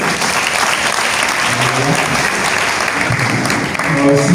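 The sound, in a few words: audience applauding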